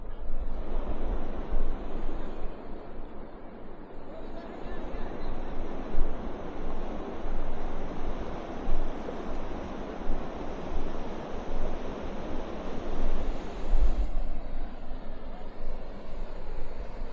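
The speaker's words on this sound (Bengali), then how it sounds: "আর স্রোতটা আজকে একটু বেশি আমার কাছে যা মনে হচ্ছে, কারণ এরকম স্রোত সচরাচর থাকে না।" Strong, fast river current rushing past the Mohonpur rubber dam in Dinajpur, a steady broadband roar of churning water with wind buffeting the microphone throughout, continuous and close.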